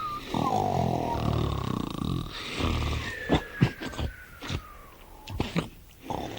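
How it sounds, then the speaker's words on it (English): Loud, rasping snores from an elderly man rumble close by, drawn-out breaths followed by sputtering, irregular snorts and grunts. "Can you snore as loudly as that?"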